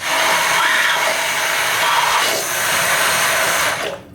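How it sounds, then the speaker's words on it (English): A handheld immersion blender whirs continuously for a few seconds, blending garlic dressing for a grapefruit salad, its motor loud and close with a slight dip midway before it cuts off, with no speech. "So love these immersion blenders."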